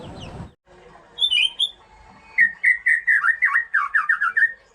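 A recorded songbird, an oriental magpie-robin, sings a run of bright, quick whistled and chattering phrases, loud and close, after a brief burst of noise at the start.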